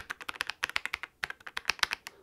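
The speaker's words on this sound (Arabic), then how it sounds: "وصوت الكيبورد بصراحه طرب خل اسمعكم صوته" Rapid typing on a gaming keyboard fitted with wooden keycaps, a steady stream of close, crisp key clacks in quick bursts with one short pause, heard alone without talk.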